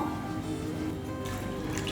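Water poured onto soaked chickpeas for a Chettinad masala chickpea dish makes a soft, steady splashing and trickle close by, fairly quiet, with no talk.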